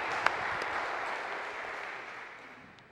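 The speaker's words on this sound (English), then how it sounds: "Let's give him a hand clap." A church congregation gives a hand clap to welcome a visitor before a sermon, heard as a soft, diffuse patter of applause that fades gradually toward the end.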